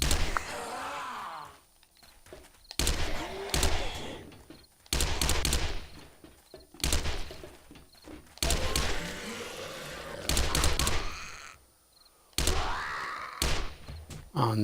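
Gunshots fired at a zombie in 7 Days to Die, a series of loud, close, sharp reports in irregular groups separated by short quiet gaps, with a voice talking in between.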